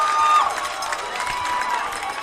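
Spectators at a boys' high school lacrosse semifinal between Derryfield and Portsmouth in New Hampshire give an outdoor burst of cheering and shouts that starts loudest and settles into a lively, moderately distant murmur.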